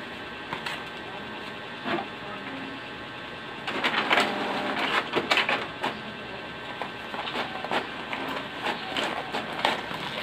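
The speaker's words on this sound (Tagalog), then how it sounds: "So, head cleaning pa tayo." An HP Ink Tank 315 printer whirs and clicks through a head cleaning cycle, with a louder burst of mechanical carriage noise midway followed by intermittent clunks, alone without talk.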